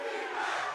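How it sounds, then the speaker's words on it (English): Crowd in an esports arena at VCT Masters Madrid during a Valorant match between SEN and Heretics, a brief, steady roar of many cheering voices with no commentary over it. "the crowd getting involved now"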